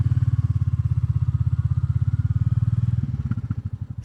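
Motorcycle engine held steady at 3000 RPM, a strong, even low-pitched thump that fills the clip up close, then turns rougher and more uneven in the final second.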